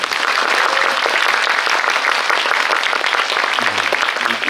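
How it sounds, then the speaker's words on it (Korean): Audience applause at a special screening of the Netflix film Muddo Silmugwan, loud continuous clapping from a packed room, steady and close throughout. "고생해주신 무도실무관 스태프분들, 배우님들 모두에게 박수 한번 부탁드립니다."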